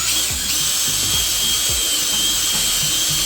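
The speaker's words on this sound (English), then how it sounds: "And drill time." A power drill whirs steadily at close range with a high, constant motor whine and faint low rattling, no voices.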